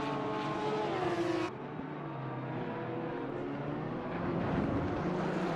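Acura NSX race car in Assetto Corsa Competizione at the Hungaroring, its engine holding a steady loud drone at high revs with a pitch shift as it comes through a chicane, continuous and alone without talk.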